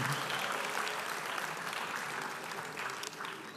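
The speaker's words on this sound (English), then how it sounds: "I would like to offer a note of thanks and a round of applause" A large crowd applauds steadily at a university convocation ceremony, a dense wash of clapping that holds at a fairly even level throughout.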